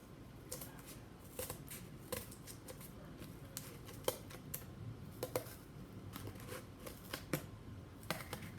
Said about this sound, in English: I'm going to take my scissors and I'm going to cut it part of the way.